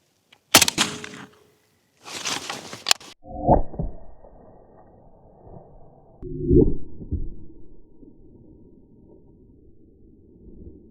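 Two loud sharp AK-74 rifle shots (5.45 mm) a second apart, striking a foam concrete block, followed by dull thuds and low rumbling impacts that fade into quiet.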